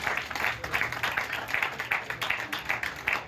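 A crowd applauds at an evening poetry recital and honour ceremony held in memory of Chaudhary Jile Singh. The clapping is steady and moderately loud, with rhythmic swells throughout and no voices over it.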